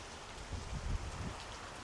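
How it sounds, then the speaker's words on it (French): Heavy rain from Hurricane Milton pours down in a steady dense hiss, with a few louder splashes mixed in. "ça commence à pleuvoir fort là"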